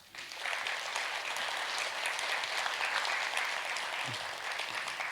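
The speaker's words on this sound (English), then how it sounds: "How about a round of applause for Xavier Davis?" Audience applause for jazz musician Xavier Davis at a jazz music intensive event, a dense, steady burst of many hands clapping that starts abruptly and holds at full strength throughout.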